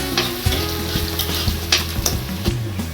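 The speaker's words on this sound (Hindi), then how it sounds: "इनको भी प्याज के साथ में फ्राई करेंगे।" Green chilies and onion fry in a pan for a potato and pea curry, giving a steady close sizzle broken by scraping stirs.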